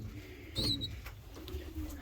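A racing pigeon in its loft gives a soft, low coo that swells briefly near the start, then settles under faint, steady background hum.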